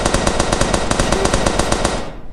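Rapid burst of gunfire from a weapon fired during a sea worm attack, a loud, dense string of closely spaced shots for about two seconds before cutting off abruptly.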